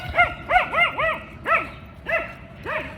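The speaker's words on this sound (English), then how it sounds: "my dog's keeping noise, so I'm gonna pack it up" A dog barks in quick clusters of high, yippy barks, several in a row with short pauses, fairly close with no talk.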